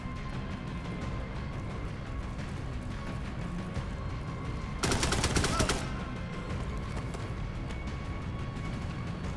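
In the video game Shadow Project, a short loud burst of automatic gunfire sounds for about a second against a steady background ambience.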